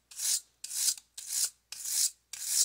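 Five even strokes of a brush scrubbing a Jacobs drill chuck on a Rockwell Delta drill press, each a bright, close rasp about half a second long, with short pauses between and no speech.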